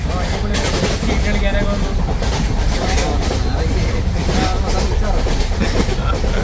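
A train rumbles steadily along the rails, a loud continuous roar with rattling clatter, heard from inside a passenger carriage, with voices faintly mixed in.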